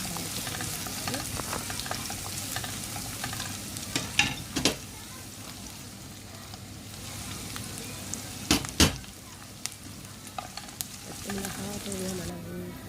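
Onions and green chili fry in hot oil for a Jaffna-style anchovy curry, giving a steady close sizzle with occasional scrapes and clinks of stirring in the pan.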